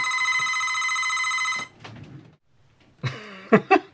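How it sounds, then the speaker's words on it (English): A landline telephone rings loudly with a sustained electronic tone for about a second and a half, then stops, followed by quiet rustling and a few short thumps and squeaks. "A phone call. I forgot to unplug my phone."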